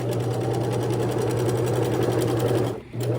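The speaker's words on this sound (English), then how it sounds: "I'm gonna back stitch again." A sewing machine stitches a fabric sample, its motor humming with a rapid steady needle chatter, close and continuous, then briefly pausing near the end.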